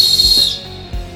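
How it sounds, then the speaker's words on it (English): A Jet Scream survival whistle blown hard gives one short, loud, high, piercing blast lasting about half a second, then cuts off, with a couple of soft thumps and no voices. "The Jet Scream emits a loud, high, piercing noise that is audible over most natural and man-made noises"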